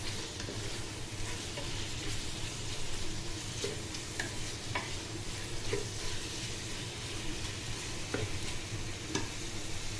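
Spices frying in oil in a pan for an Arabic beef stew, with steady close sizzling throughout and occasional light clinks and scrapes of stirring.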